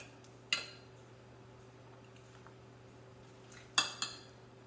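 Metal spatula tapping and pressing crab cakes down into metal muffin cups, with a few sharp clinks spaced apart over quiet kitchen background hum.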